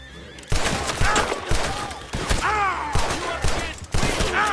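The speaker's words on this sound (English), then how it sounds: "go shoot that lock" Repeated gunshots ring out in Red Dead Redemption 2 as a lock is shot, several loud sharp blasts spaced across a few seconds, with horse whinnies and background game sounds between them.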